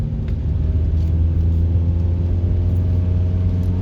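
A car engine idles and rumbles steadily from inside the vehicle while it makes a U-turn on an empty street, giving a loud, close, low drone with no clear revving, and no talking.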